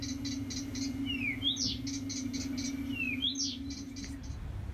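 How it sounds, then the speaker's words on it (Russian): A recorded nightingale song plays in an airport restroom at Helsinki-Vantaa Airport: soft repeated chirps and quick whistled trills, fairly faint over a steady low hum. "попав в туалет, вы можете насладиться трелью соловья"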